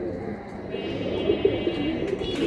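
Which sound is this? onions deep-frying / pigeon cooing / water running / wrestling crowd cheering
pigeon cooing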